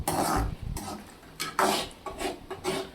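Egg thokku is stirred in a pan, with uneven, scratchy scraping strokes of a utensil against the metal coming in short, close bursts and no talking.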